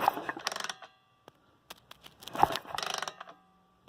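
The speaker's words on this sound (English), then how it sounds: "If I crank it over by hand, hopefully you'll see it spark." An old barn-find dirt bike engine is turned over by hand, giving a few short bursts of mechanical clicking and ratcheting with quiet gaps and single ticks between them, close and fairly faint.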